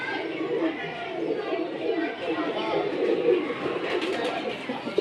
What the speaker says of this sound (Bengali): আমার কবুতর সবই ডাকে